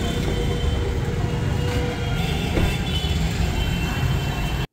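Steady, loud rumble of a moving passenger train heard from inside a carriage on the ride home, with continuous rolling wheel noise and clatter and no talking.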